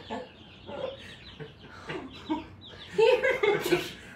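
A hen clucks close by in a series of short, uneven calls that build into louder, excited squawks near the end.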